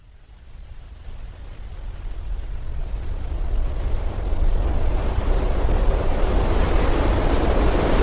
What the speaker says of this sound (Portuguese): um barulho terrível. Do vento contra a fuselagem, conforme o avião cai do céu